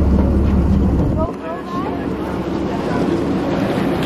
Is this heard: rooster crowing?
no